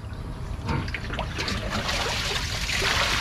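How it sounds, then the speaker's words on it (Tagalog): Water seeping and trickling out of a rice paddy, a steady close dribbling wash with small splashy bubbling details that continues throughout without pause. "Tagos ng tubig galing sa palayan."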